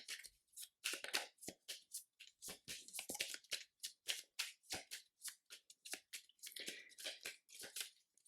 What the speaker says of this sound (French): On va remélanger les cartes